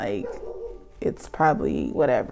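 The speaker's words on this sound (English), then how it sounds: "Sorry about the dogs barking in the background." Dogs barking in the background indoors, a few short barks and yips breaking through under someone talking close to the microphone.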